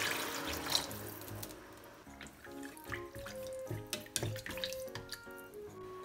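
Water pours into a cooking pot, a near, gurgling splash that turns into a ringing, rising fill with small drips, at moderate volume and without talk.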